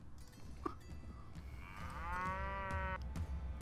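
Cattle moo from a herd in the Mount & Blade: Warband game (Silverstag mod): one long, rising, drawn-out low call swells up near the end over a steady background hum, with a fainter earlier moo.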